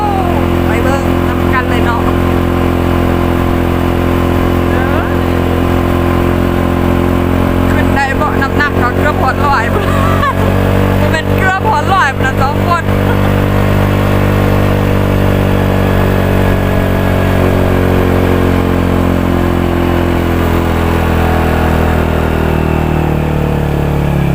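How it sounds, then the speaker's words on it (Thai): A motorbike ridden uphill to a farm field. Its engine drones loudly and close for the whole stretch, a continuous mid-pitched rumble whose pitch shifts slightly as the bike climbs. "วันนี้เขาก็ขี่รถขึ้นโพ"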